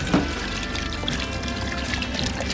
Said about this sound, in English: That would give them a little clean water rinse.